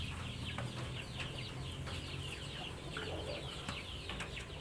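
Indio Gigante hens cluck softly in short repeated bursts against a faint, steady background hum; no voices.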